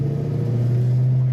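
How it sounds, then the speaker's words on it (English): Deep, steady exhaust rumble from a 1964 Chevrolet Chevelle with an automatic transmission, idling loud and close with a constant low drone and no voices. "Great rumble to that exhaust."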